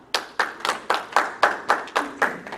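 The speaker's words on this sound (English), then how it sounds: "Let's hear it by applause if you've heard of the Outer Banks." Slow, evenly spaced hand claps ring out about nine times in a steady rhythm at a VFW post show, sounding like one or a few people rather than a full crowd.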